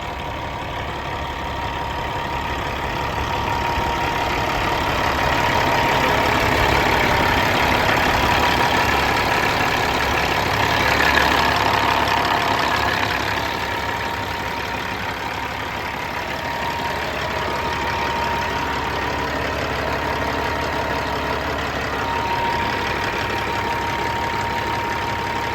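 A warmed-up Kenworth semi truck diesel engine, a 2018 studio glider, idles steadily and loudly for the whole stretch, a continuous rumbling drone with slight swells and no talking.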